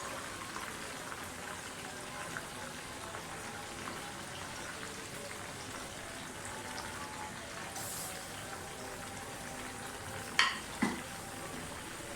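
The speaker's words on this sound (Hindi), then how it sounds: "इसी तरह सारा फ्राई चिकन दोबारा डाल दें और इसको फ्राई करें" Chicken pieces fry a second time in hot oil for crispy fried chicken. A steady, soft sizzle and crackle runs throughout, and near the end a couple of brief clinks from a utensil break through.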